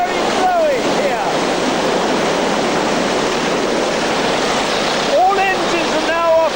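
Strong wind gusts across a hovercraft landing site at HMS Daedalus, a loud, steady broadband roar filling the whole stretch, with brief wavering tonal whines rising and falling near the start and end.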